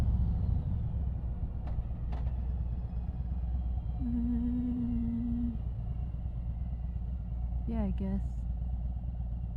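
Engine rumble from a 2019 Harley-Davidson Road Glide motorcycle with a fairing, heard steadily from the rider's position throughout while someone talks briefly over the engine and wind.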